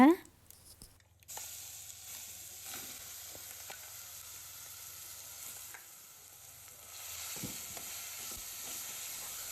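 Ground masala paste fries in oil in a pan for horse gram rasam, giving a soft, steady sizzle broken by occasional scraping stirs, quiet and close.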